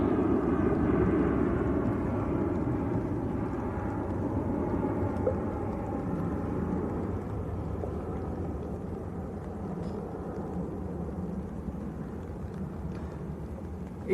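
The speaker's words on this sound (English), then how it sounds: "EasyJet about to touch down as well, an A321 Neo from Sofia in Bulgaria." An EasyJet Airbus A321neo comes in to land, a broad, steady jet roar that stays loud and fairly close throughout, fading only slightly toward the end.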